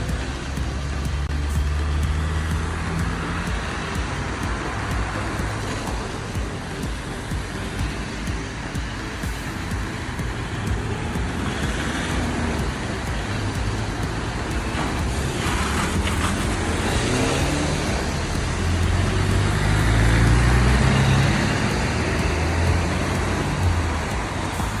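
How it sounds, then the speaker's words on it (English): Cars and other road vehicles pulling out of a parking lot into traffic, a steady close roadway rumble with engines swelling louder toward the end, no voices. "This part where they pull out of this parking lot scares the shit out of me every time"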